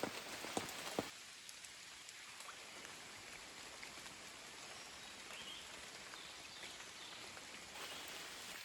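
Steady rain falls in a forest, a dense, even hiss that carries on throughout, close and continuous, after a few sharp knocks at the very start; no voices.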